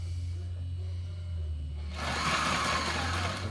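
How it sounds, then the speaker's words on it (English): Sewing machine stitching a bar tack across a battery strap for an FRC robot, a low steady motor hum that swells into a brighter, busier buzz partway through, close and alone. "I'm going to take it over to my sewing machine. I'm going to put a bar tack right here"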